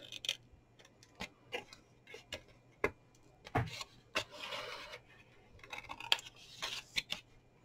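Scissors trim paper for a small craft treat box, making a quiet, irregular series of crisp snips and papery rustles close by.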